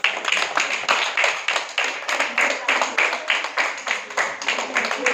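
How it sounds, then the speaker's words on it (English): Audience applause at a business talk, a steady crowd of clapping hands that keeps going at an even, fairly loud level throughout with no voices on top. "A big applause to Raita Mitra."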